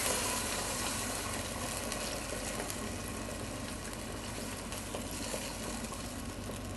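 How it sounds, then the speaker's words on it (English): Beef broth poured into a pot for braised short ribs, a continuous splashing, sizzling wash of liquid that holds steady and close throughout. "And I'm going to add some beef broth."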